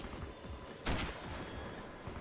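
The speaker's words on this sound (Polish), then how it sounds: "Skąd strzelają?" Gunfire in the sniper shooter game Sniper: Ghost Warrior: a single sharp, loud shot bursts out near the middle, standing out against a steady background of ambient game noise.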